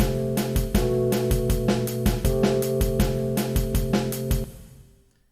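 Town theme melody for a Suikoden fangame with basic harmony added, a sequence of bright plucked notes over sustained chords in a steady rhythm, ending as the notes fade out.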